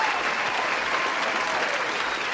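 Applause from a group, continuous dense clapping at moderate, even loudness, with some voices faintly mixed in beneath it.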